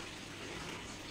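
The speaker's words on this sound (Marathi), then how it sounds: "पाणी टाकून द्यायचं. असं पाणी टाकलं की तेवढं ते मिक्स होत नाही" Water is poured into dal tadka while it cooks in a hotel kitchen, a brief faint steady gushing pour with no talk.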